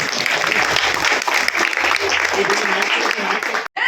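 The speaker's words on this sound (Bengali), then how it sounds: "আজকে আমার প্রিয় প্রিয় কবির জন্মদিন, একটা হাততালি দেবেন সবাই।" A theatre audience at a Bengal theatre festival gives a dense burst of clapping, close and loud and filling the clip, with some voices mixed in underneath.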